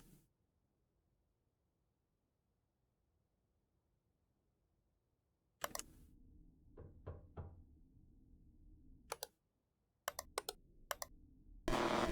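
Sharp knocking in I'm on Observation Duty 7: a few separated knocks come in after several seconds of near silence, then quick paired raps against a low room hum, close and fairly loud.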